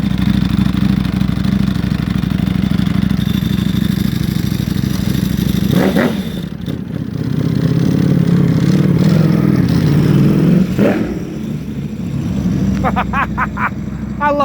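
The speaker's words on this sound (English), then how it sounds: "testing the bike out, just installed a Cordona quick shift and auto blip" A Ducati V4R motorcycle engine fitted with a Cordona quick shift and auto blip, a loud close idle that drops, then rises through revs with blips and a clattering shift.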